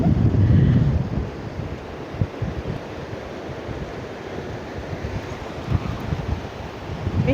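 Sea waves wash steadily at high tide on Bakkhali beach as wind buffets the microphone, with a louder surge at the start and then a continuous roar.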